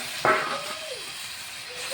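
Chicken meat drops into hot oil with a sudden burst of sizzling hiss that settles into a steady sizzle while cooking a Bengali chicken kosha, with a voice faintly heard.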